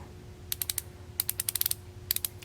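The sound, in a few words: Koken quarter drive ratchet clicking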